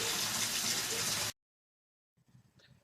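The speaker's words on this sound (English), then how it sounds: "I'll just fill that up, the first batch, then I'll probably drain it out, add some more cold water" Cold tap water gushing steadily into a home-brew pot for a mini-mash dark ale, a loud continuous rush that stops abruptly, followed by faint handling noises.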